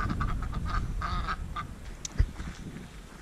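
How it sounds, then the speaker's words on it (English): Several ducks quack excitedly close by, in quick overlapping bursts with a few louder calls. "Well, the ducks look all excited."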